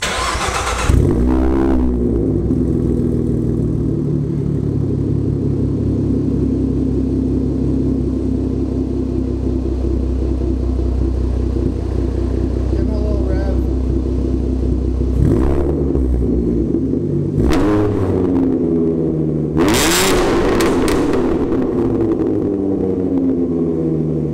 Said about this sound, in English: Pretty simple exhaust setup, but it has a good tone for it